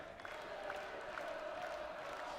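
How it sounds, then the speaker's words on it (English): Darts crowd in the arena at the 2019 German Darts Open final, singing Ian White's name as a steady, even wash of massed voices, moderately loud and far off, with no single voice standing out. "the crowd are singing Ian White's name, trying to give him something"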